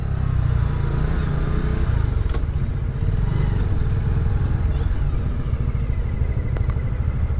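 A 2024 Lifan KP Mini EFI mini bike engine running, a loud, steady, low rumbling chug with a faint clatter, close up and continuous, with no talking.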